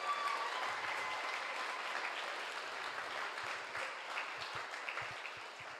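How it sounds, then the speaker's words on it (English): Applause from a youth event audience after a rock performance that ended with a smashed guitar, steady dense clapping filling the whole stretch at a moderate distance, with no voices over it. "Let's give Kayla another round of applause"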